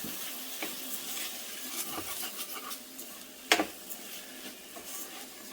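Rice being stirred into ghee with onions in a pan, giving a soft continuous scraping and faint sizzle with a sharper clink of the spoon midway.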